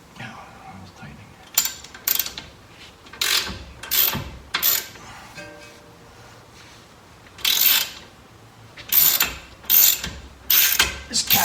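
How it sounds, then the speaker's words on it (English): Ratchet wrench clicking on the steering parts of a 2013 Toyota Avalon during a rack and pinion replacement, with bursts of rapid close ratcheting separated by pauses and brief speech. "Switch over to a ratchet."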